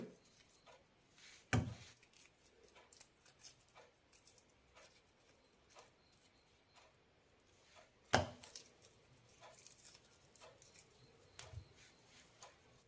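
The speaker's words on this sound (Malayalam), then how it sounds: "കഷ്ണങ്ങൾ മുറിച്ചെടുക്കാം" A knife cuts boiled, peeled colocasia (taro) into pieces on a board, giving faint, sparse soft taps with two louder thuds, close by in a quiet kitchen.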